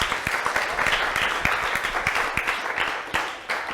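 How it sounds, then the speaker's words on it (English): At a tech showcase event, a room of attendees gives a round of applause. The clapping is lively and fairly close, with sharp individual claps over dense hand-clapping that continues for nearly four seconds. "big round of applause for you."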